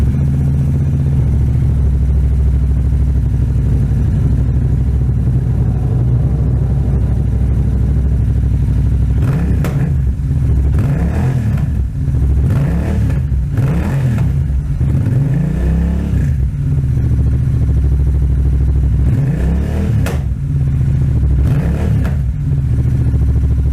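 Car engine fitted with a Stratos Performance air filter and a loud Tech 2-in-1 exhaust idles with a heavy, steady low rumble, then gets blipped in several short revs, loud and close.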